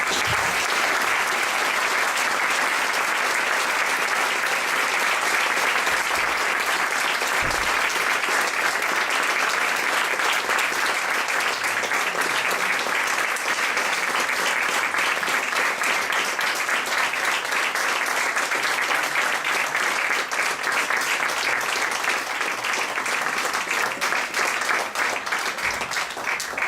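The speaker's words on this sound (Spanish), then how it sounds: "vamos a darle un aplauso realmente muy agradecido por su presencia" Sustained audience applause at a university anthropology lecture in Veracruz, a dense, steady wash of clapping that stays loud and even for the whole stretch with no talking over it.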